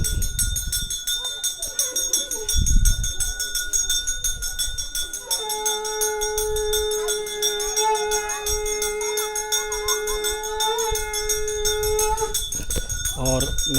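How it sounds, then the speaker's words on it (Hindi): A conch shell is blown at a temple in the Jageshwar area, a long steady droning note held for about seven seconds over ambient noise and murmuring voices. "शंख ध्वनि"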